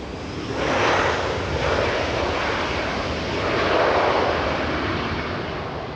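A SkyWest airliner on approach to land at LAX after a flight from San Jose, its broad jet roar steady and fairly loud, swelling slightly twice as it passes, with wind-like rush and no voices.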